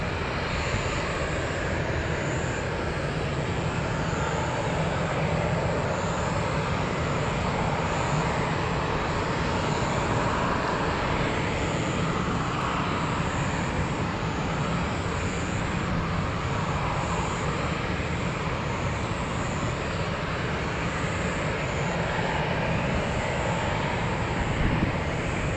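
A Boeing 737-800 jet departing overhead near Tampa, its engine roar a broad steady rumble with a high whine, sustained and fairly loud throughout with no talk.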